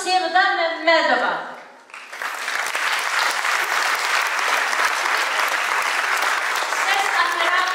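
Audience applause at a theatre gala night swells into dense, sustained clapping from a large crowd, following a brief spoken announcement at the start; loud and even throughout.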